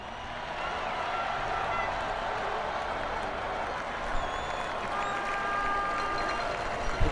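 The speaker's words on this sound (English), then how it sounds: "Here are the stars of the day enjoying a round of applause from the team and fans." Steady applause and crowd noise from team members and fans at a MotoGP 19 race celebration at the Termas de Rio Honda circuit, a continuous wash of clapping and cheering at moderate distance with a few brief louder pops.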